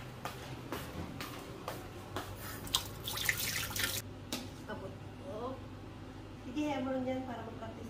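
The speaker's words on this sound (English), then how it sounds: "Can I wash my hands?" Water runs from a tap as hands are washed before a meal, a steady splashing that swells mid-way, with people talking over it.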